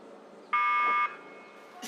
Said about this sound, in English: That's the buzzer and the start for the A final of the men's quadruple sculls.